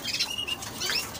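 Caged birds flap their wings in quick fluttering bursts during feeding, close by and brief, with faint coos and chirps mixed in and no talking.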